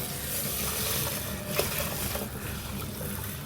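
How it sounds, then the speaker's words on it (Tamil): Water poured onto raw rice to soak, a steady broad splashing and rushing stream lasting throughout, close and moderately loud, with no talking. "தண்ணியை ஊற்றி"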